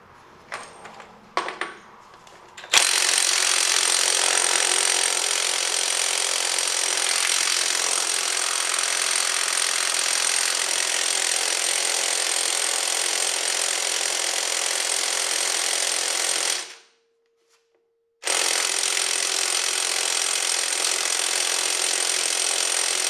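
A Bauer 20V half-inch cordless impact wrench hammers on a stubborn upper bolt in long, loud, continuous bursts of rapid rattling impacts, cutting out briefly once before resuming at full force.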